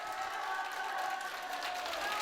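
Applause and crowd noise greet a man arriving at a gathering of elderly people in Dangjin, a steady wash of clapping and cheering throughout, fairly loud and close.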